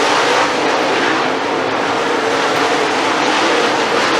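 Race cars on the dirt track at I-75 Raceway roar continuously, a dense broadband engine wash that stays loud and even for the whole stretch with no talk.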